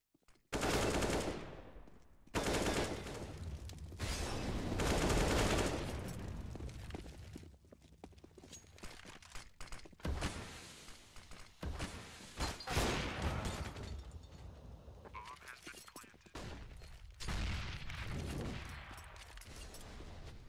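Gunfire in an esports shooter match comes in dense rapid bursts and scattered single shots, loud then thinning out, with short pauses between exchanges.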